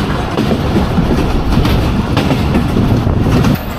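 Dhalarchar Express passenger train running at about 80 km/h past Abdulpur Junction between Pabna and Rajshahi, heard from onboard as a loud steady rumble with rhythmic wheel clatter on the rails.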